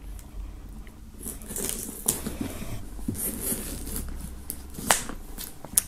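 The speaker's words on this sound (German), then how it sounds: "werden wir mal die Folie abnehmen." Plastic shrink-wrap film being peeled off a music box set, a continuous crinkly rustling with sharper crackles and snaps, close up.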